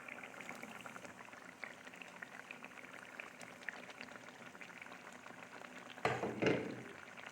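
Aloe vera and curry leaves drop into hot oil for homemade hair oil, giving a steady low sizzle and bubbling that bursts into a louder crackle and spatter near the end.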